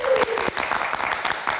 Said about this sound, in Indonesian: Kita kasih tepuk tangan buat Ifdal.